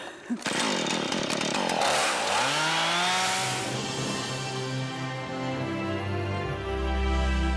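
A chainsaw cuts through storm-fallen wood, loud and close, its engine note rising and shifting as the chain bites in and then settling into a sustained whine.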